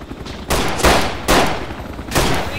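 Bursts of video game gunfire laying down suppressing fire, loud and close, arriving in three heavy sustained volleys with brief lulls between them and no talking over them.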